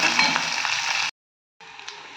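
Chopped onions sizzle and crackle steadily in a hot pan, loud and close, then cut off briefly before the frying resumes more softly.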